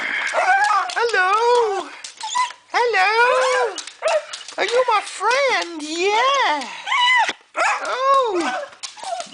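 At an outdoor bushcraft show, a dog gives a long series of close, high whines, yips and barks in quick bursts, while people talk to it.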